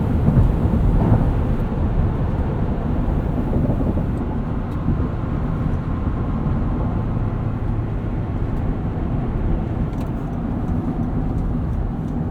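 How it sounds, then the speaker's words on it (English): Tire and road noise inside a moving 2023 Honda Pilot Trailsport with the sunshade closed, a constant low broadband roar that holds steady and fairly loud with no speech over it. "with this sunshade closed, I'm mostly just getting some tire noise here"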